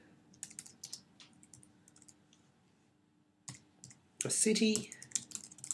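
Rapid clicks of typing on a computer keyboard while address details go into an online registration form; a voice speaks briefly, then a louder cluster of keystrokes near the end.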